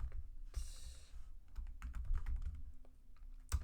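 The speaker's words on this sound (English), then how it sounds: "just gonna type something quickly" Someone types quickly on a computer keyboard, a quiet, irregular run of key clicks close to the microphone with a slightly louder tap at the end.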